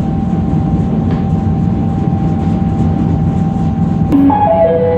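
A Comeng metro train rumbles steadily into North Melbourne station with a constant low hum, then a bright multi-tone chime rings out near the end.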